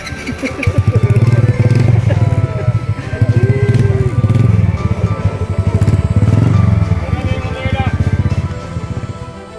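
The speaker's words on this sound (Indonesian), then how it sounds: "Baru naik motor seru." A motorcycle rides up a mountain trail on Mount Argopuro in East Java, its engine droning loud and close without a break while people talk over it.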